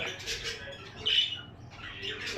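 A young female Texas pigeon gives a few short, harsh squawks close by, with a sharper cry in the middle and quieter rustling between calls.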